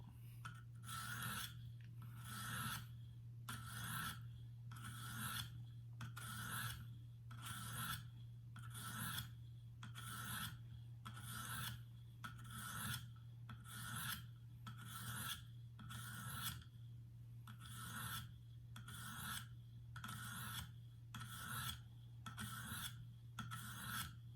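A blade is being sharpened on a whetstone with regular back-and-forth rasping strokes, about one per second, close and even, over a low steady hum.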